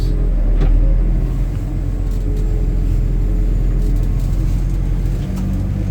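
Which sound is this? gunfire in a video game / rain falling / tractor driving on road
tractor driving on road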